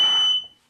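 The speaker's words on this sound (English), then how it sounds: "My alarm actually is set to go off not just for smoke, but apparently for heat." A home smoke alarm set off by cooking heat during a live BBQ pork and curly potato demo gives a loud, shrill, high-pitched beep that cuts off abruptly, then starts again.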